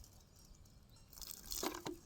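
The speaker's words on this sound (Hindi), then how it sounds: "हाथ धो लेते हैं," Water splashes and drips as hands are washed outdoors at a farm field, using water from a bottle; brief wet splatters arrive close and moderately loud near the end after a quiet start.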